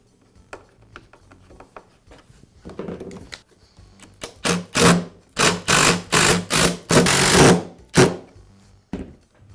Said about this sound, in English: I'll start the screws with a screwdriver so I don't cross-thread them.